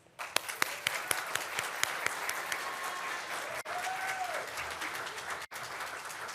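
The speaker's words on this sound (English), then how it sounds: "Please join me in giving her a round of applause." Applause at a Native, Indigenous and Tribal graduation ceremony, with a crowd clapping steadily throughout and a few sharper individual claps standing out near the start.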